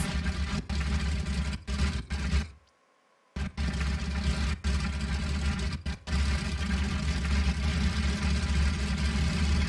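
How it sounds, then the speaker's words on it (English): A light aircraft engine runs at steady high revs with the plane held by wheel chocks, a loud continuous drone with a few brief cuts and a short near-silent gap. "Get nice engine rev."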